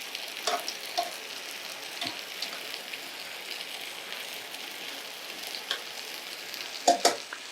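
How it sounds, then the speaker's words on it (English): Rapini sautéing in a pan, stirred now and then, gives a steady soft sizzle with scattered clinks and scrapes, a louder stir near the end, and no voices. "Check on your rapini, give it a little stir."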